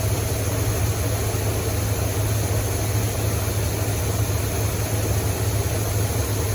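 A Buick engine in a C20 Suburban, fitted with a Quadrajet carburetor, idles roughly with a steady low rumble and hiss, heard close and continuous with no talk.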